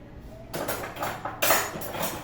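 An old, thick, hard metal pan handle rod from a Penedo pan is handled in a workshop while a pressure cooker is being repaired, giving a few close metallic clinks and knocks with no speech.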